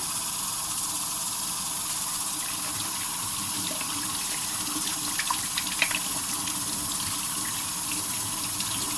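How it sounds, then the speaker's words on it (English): Hands being washed under a running kitchen tap, water streaming steadily with a soft hiss and occasional splashes as fingers and nails are scrubbed, close and continuous without talk. "Just take time washing in between the fingers, do all the nails."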